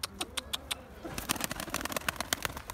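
A mixed-breed pigeon near a coop coos in soft low throaty calls, with sharp clicks and flutters around it, close and fairly quiet.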